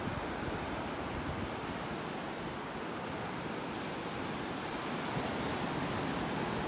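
Steady broadband roar of surf and wind on a chilly morning beach at Delnor-Wiggins Pass State Park, continuous and fairly close, with no voices over the wash of waves and gusts.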